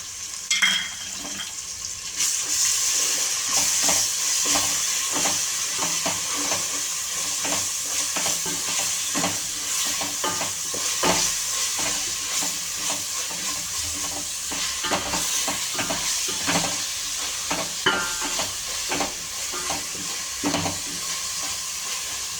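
Onions and ginger paste fry in oil for a home-cooked bottle gourd dalcha, giving a steady, close sizzle with scattered stirring scrapes and clicks throughout and no talking.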